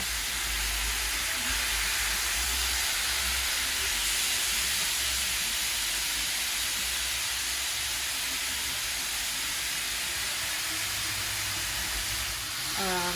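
Sausage browning in a pot for Cajun pasta gives off a steady, loud hiss and sizzle that runs unbroken, with a faint low rumble underneath.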